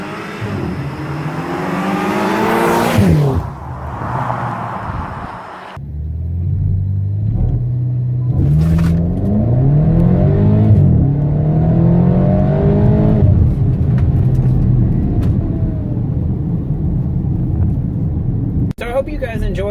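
A BMW E70 X5M engine accelerates hard, its loud rising revs climbing through several gear changes, with rumbling exhaust heard close from inside the cabin and a brief cut at the end.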